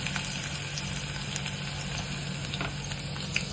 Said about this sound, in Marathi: तेल गरम झालेलं आहे, कांदा टाकलेला आहे